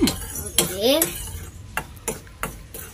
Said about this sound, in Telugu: ఒక్క నిమిషం నేను ఫ్రై చేస్తానే